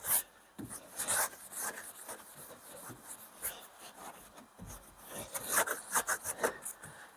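Close, uneven scrubbing and wiping on the dirty pinch weld of a Peugeot Boxer windscreen frame, with bursts of rough rubbing strokes separated by short pauses, fairly faint and with no voices.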